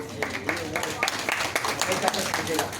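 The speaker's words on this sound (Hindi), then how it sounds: "जोरदार तालियां।" An audience at a Nagari Lipi Parishad conference session applauds steadily, a dense patter of clapping hands throughout.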